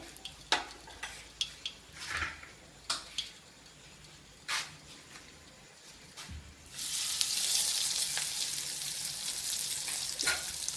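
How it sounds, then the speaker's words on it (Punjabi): Potato tikki lowered into hot refined oil for a Punjabi-style tikki chaat: a few light clinks and taps, then a loud, steady close sizzle that takes over and holds to the end. "ਤੇ ਇੱਕ ਟਿੱਕੀ ਇਸ ਦੇ ਵਿੱਚ ਆਪਾਂ ਤਲਣੀ ਸਟਾਰਟ ਕਰਦੇ ਹਾਂ ਤੇਲ ਗਰਮ ਹੋਣ ਤੋਂ ਬਾਅਦ ਆਪਾਂ ਇਸ ਦੇ ਵਿੱਚ ਟਿੱਕੀ ਪਾਵਾਂਗੇ"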